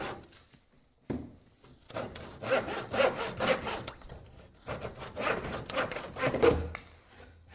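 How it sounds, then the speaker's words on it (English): A handsaw cuts through upcycled wood in steady, rhythmic back-and-forth strokes after a brief quiet start, close and fairly loud. "using a handsaw"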